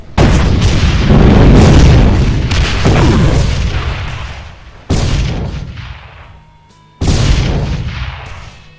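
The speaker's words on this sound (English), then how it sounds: "firing Hellfire rockets, which emit the larger explosions" Three heavy Hellfire rocket explosions in the video game DooM boom one after another, the first long and rumbling, then two sharp blasts that each decay away, loud and close.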